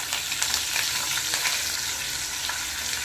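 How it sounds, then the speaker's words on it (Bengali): Curry leaves hit hot oil with fried mustard seeds, giving a loud, continuous crackling sizzle with sharp pops, close up and with no voices. "এখানে দিয়ে দেব বেশ কিছুটা কারি পাতা।"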